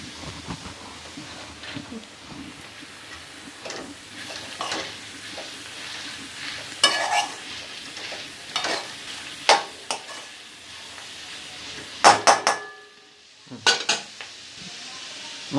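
Grated beetroot tossed with fried onions in a pan, a steady low sizzle under repeated spoon scrapes and clinks against the metal, a few sharper knocks near the end.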